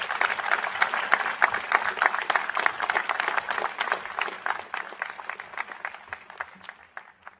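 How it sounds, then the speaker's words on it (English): A graduation commencement crowd claps in warm sustained applause, dense and lively at first, then gradually thinning and fading toward the end. "Please join me in giving her one more round of applause."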